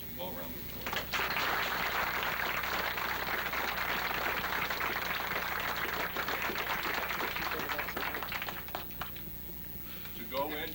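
An audience at the 1990 dedication of the new Haworth, New Jersey library building breaks into sustained applause, a dense, steady wash of clapping that swells after a second and runs for nearly ten seconds before thinning out.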